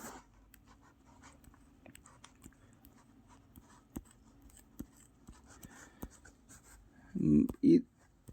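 Marker or chalk writing out a maths question on a classroom board, giving faint scattered scratchy strokes and taps beneath quiet room tone, followed by a pair of louder thumps near the end.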